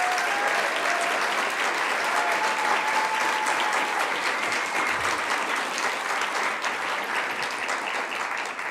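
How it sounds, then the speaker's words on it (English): Sustained applause from a graduation ceremony crowd honoring the class of 2024 at a peace studies school, a steady dense wash of clapping that holds evenly for the whole stretch. "let's give them one more round of applause, class of 2024"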